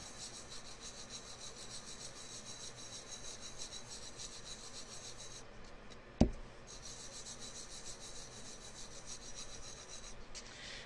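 Light rubbing of a vinyl decal onto a Valentine's Day tumbler cup: a steady, soft, close scraping rasp that runs nearly unbroken, with one sharp tap or knock partway through. No one talks.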